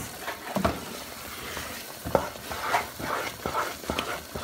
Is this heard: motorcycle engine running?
no